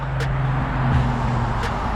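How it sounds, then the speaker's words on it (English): Cars pass by on a roadside, a continuous low rumble and tire hiss swelling slightly as a vehicle goes past, moderately close, with no talking. "wait until some cars go."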